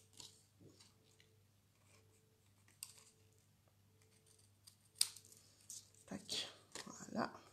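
Scissors snip through a paper Easter card, trimming away unwanted parts of a tree design; a few soft cuts give way to louder, closer snips near the end, over a steady low hum.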